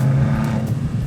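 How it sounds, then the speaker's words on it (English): A 170-horsepower turbo car engine drones steadily with a low, throaty hum that swells slightly while accelerating past traffic in Rome. "Let's use that turbo and get around these cars."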